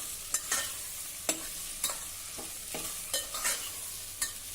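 Vegetables for masale bhaat sautéed in a pan, a low sizzle under repeated sharp scrapes and taps of a spatula against the metal, about eight strokes in an irregular rhythm, close and unaccompanied by talk.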